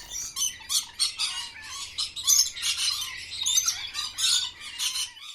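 A pair of birds squawk harshly and continuously near their nest while attacking a snake, with loud, close, agitated calls in rapid bursts and no talking.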